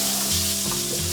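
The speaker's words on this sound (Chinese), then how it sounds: "先把这个五花肉放上去" Pork belly sizzles in a small amount of hot oil in a pan, a steady, close frying hiss with no talking.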